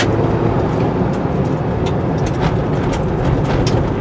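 A 2018/2019 Jeep Wrangler Rubicon with a 2-liter turbo engine cruises along back roads, with a dense, constant roar of engine and road noise that stays even and loud throughout.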